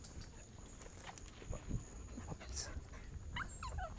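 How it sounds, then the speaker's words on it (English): A small dog whimpers and whines, wanting to play, in faint, brief high cries over a busy outdoor background, with voices audible around it. "Little doggy wants to play."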